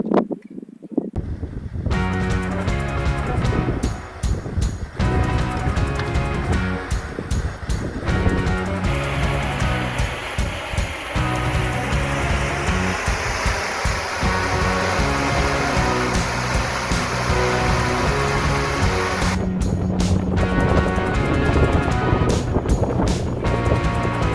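Strong wind roars across the top of a hill at a hill climb cycling event, a dense steady rush buffeting the microphone throughout with brief drops and gusts.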